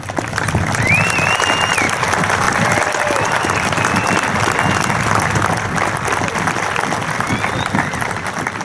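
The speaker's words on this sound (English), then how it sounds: "Standing ovation, please, seniors." Sustained, loud applause from a standing audience of seniors at Big Spring High School's 2020 graduation, steady and even throughout with faint crowd voices mixed in.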